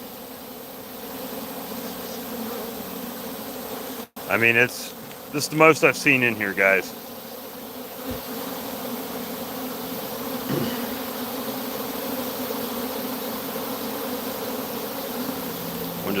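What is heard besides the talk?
bees buzzing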